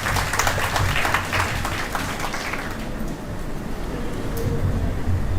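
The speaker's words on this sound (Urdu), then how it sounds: "اگر یہ بات درست ہے تو تالیاں بجا دیں خواتین کے لیے" An audience claps for women at a law-career talk, a dense burst of applause that thins slightly midway then carries on steadily, with a faint voice underneath.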